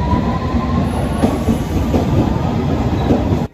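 A London Underground train runs at speed with a loud, steady rumble and roar and faint wheel noise, then cuts off abruptly at the end.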